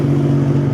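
A car exhaust rumbles steadily up close, a loud, even low drone with no pauses and no voices.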